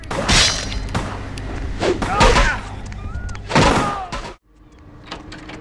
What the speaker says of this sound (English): Oh, no, you tried to open the door.